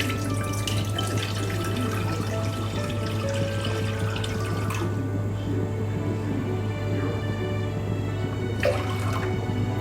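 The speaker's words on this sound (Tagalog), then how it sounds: "Lagyan natin ng tubig." Water is poured into a cooking pot, a continuous splashing gush over a steady low background hum, swelling and fading briefly near the middle and the end.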